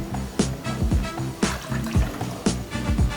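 Sparkling water poured into a cocktail glass, close and clear, with repeated bursts of splashing and fizzing and clinking sounds in a short irregular rhythm.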